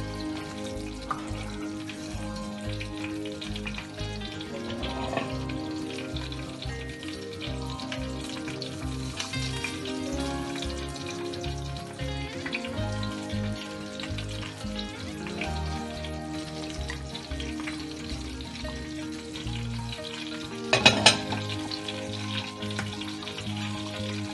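Pakoras dropped into a simmering Punjabi curry, a continuous close bubbling and sizzling with soft liquid stirring, and a brief louder splash or clatter near the end, no voices.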